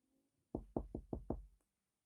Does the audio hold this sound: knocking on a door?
yes